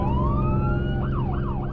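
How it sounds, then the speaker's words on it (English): Emergency vehicle siren on a busy freeway, rising wail shifting into a rapid yelp over heavy, steady traffic rumble nearby. "Sirens on the freeway don't always mean UHP."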